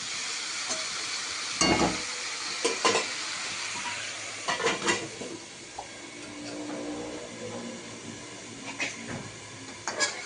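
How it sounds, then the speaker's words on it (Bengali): Bottle gourd sautés in a pan with a steady sizzle and hiss. A utensil stirs it, making intermittent scrapes and clinks against the pan. "আর লাউ কষানো চলছে"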